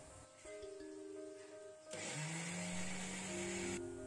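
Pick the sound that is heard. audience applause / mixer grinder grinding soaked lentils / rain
mixer grinder grinding soaked lentils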